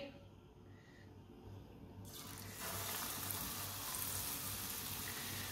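Kebabs dipped in paste are lowered into hot ghee, and a soft simmer swells into a loud, steady sizzle of frying that continues to the end.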